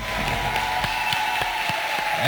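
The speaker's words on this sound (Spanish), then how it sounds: "con un gran aplauso a nuestro Dios" A church congregation in Cali, Colombia applauds during a service, loud crowd clapping with a few sharper individual claps standing out over a steady hum.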